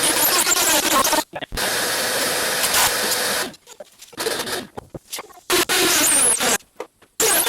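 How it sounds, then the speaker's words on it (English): A power drill bores into a concrete floor to drive concrete screws through wall bottom plates while interior walls are framed in a studio build; loud, harsh bursts of drilling alternate with short pauses. "drill into the concrete and install concrete screws into these bottom plates to secure these walls to the floor"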